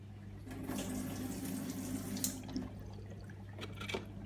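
Cold water runs steadily through a Kangen SD501 water ionizer during cleaning with a constant hiss and low hum, a few clanks and splashes breaking in near the end.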